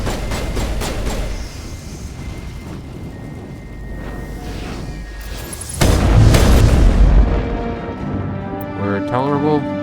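A heavy explosion in the sci-fi shooter Mass Effect erupts about two-thirds of the way through as a loud, sudden boom. It rumbles on over steady combat noise, and a voice talks at moments.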